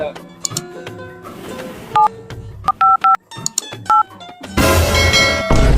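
Someone dials a number on a mobile phone keypad, producing a string of short, loud keypad tones at an uneven pace, followed by a burst of noisy sound at the end.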